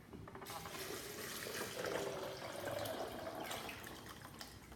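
Water poured into a Vitamix blender jar over soaked almonds, a steady close splashing fill lasting a few seconds with no talk over it.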